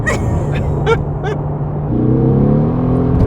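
A Mercedes-AMG GT R's deep, steady engine grumble, loud and close, with the low rumble thickening partway through as the engine note rises slightly.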